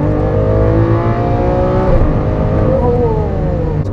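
A first-generation Lamborghini Aventador engine drones loudly from inside the cabin while driving, holding a steady roar with pitch that rises and dips as the gears change.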